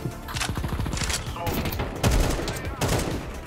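Bursts of rapid gunfire in Counter-Strike crackle continuously, loud and close, with a few heavier shots standing out near the end.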